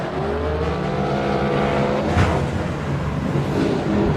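A drift car accelerates hard on a track during a drift competition, its engine roaring loud and close with shifting revs. A brief burst of tire noise rises near the middle of the run, and no one talks over it.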